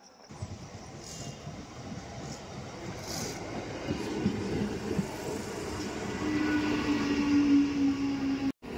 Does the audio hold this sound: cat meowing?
no